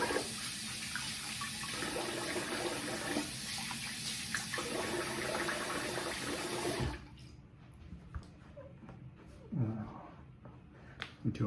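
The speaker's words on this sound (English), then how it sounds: "I'm gonna rinse the face here." Tap water runs steadily into a sink as a face is rinsed after shaving, then cuts off abruptly, leaving soft splashes and drips nearby.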